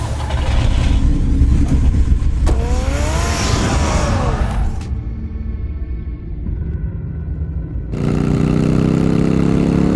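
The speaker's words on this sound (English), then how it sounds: "Get the car ready, Alfred." The Batmobile's engine in a Batman video game idles and revs with a rising whine, loud and close, then drops to a lower rumble before a new steady roar takes over.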